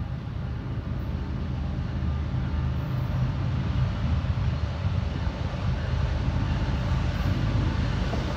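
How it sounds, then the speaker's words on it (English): CN 399, a long freight train, passes at mile 15 on the north track of the Halton Subdivision, making a loud, continuous, broad rumble that stays steady from start to finish. "Big train."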